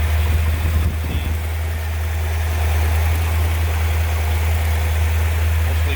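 A 427 V8 engine in a 1968 Chevrolet Corvette Convertible idles with a deep, steady rumble, close by and continuous, with a slight lope.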